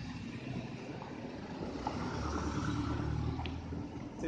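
Street traffic passes nearby as a steady, low, rumbling wash of engine and road noise that swells slightly midway, with no voices over it.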